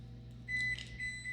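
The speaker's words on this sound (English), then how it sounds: "Let me start the timer on real quick." A kitchen timer started while Bulgarian baked noodles are prepared, giving a short, faint electronic beep or two over a steady low appliance hum.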